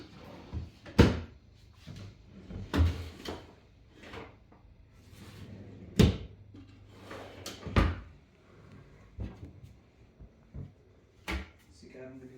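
Four wooden furniture drawers opened and closed one after another, giving a series of sharp knocks and sliding thuds at irregular intervals while someone talks throughout.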